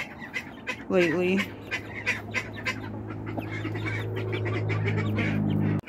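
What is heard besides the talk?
young rooster and chickens clucking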